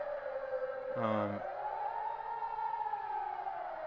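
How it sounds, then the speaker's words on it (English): A distant siren wails steadily, its pitch slowly rising and falling, with a brief voice breaking in near the start. "I'm going to assume it was like some sirens for testing or something."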